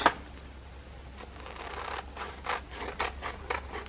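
Small scissors snip around a paper collage figure in quick, close, dry cuts, several crisp snips arriving in an irregular rhythm near the end.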